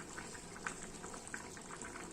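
Masale bhat liquid simmering at a steady boil in a cooking pot, a continuous close bubbling hiss with small pops scattered through, no voices.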